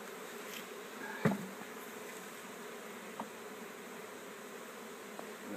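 A honey bee swarm humming as a faint, continuous buzz in the background, broken by a single brief knock near the start.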